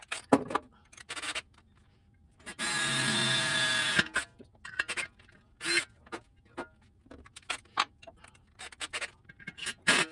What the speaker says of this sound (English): let's drill that hole